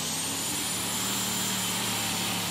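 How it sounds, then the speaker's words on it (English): Mads Hansen's Elkar Metal Boy, a tractor pulling machine with a turbocharged V8 Iveco engine, roars hard down the track at Brande, a loud, dense, continuous howl with a high turbo whine held throughout. "V8 Iveco configuration, turbocharged engine. Seems to be working very hard down the track, the engine breathing quite heavily."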